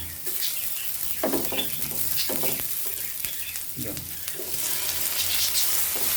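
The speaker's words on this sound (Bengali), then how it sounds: "আমাদের মরিচটা ভালোভাবে ভাজা হয়ে গিয়েছে এখন আমরা কিছু পেঁয়াজ ও কুচিয়ে রাখা টমেটোগুলো দিয়ে দেব" Chopped onions and tomatoes with dried chillies frying in hot mustard oil for a chicken curry, a loud continuous sizzle broken by bursts of stirring and spatula scrapes, close up.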